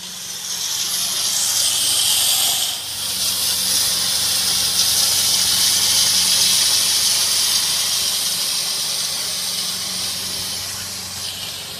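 A steam cleaner with an attachment pushes on blasts a loud, steady hiss of steam as it cleans gunk off baseboards, the jet dipping briefly then continuing without a break.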